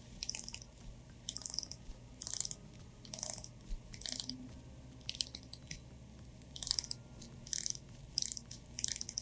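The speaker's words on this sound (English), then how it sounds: "The bezel is silent on this one. I don't know if my mic will pick it up," The rotating bezel of a Seiko Sumo GMT SFK001 watch clicks in quiet, close bursts of rapid ratcheting ticks separated by short pauses.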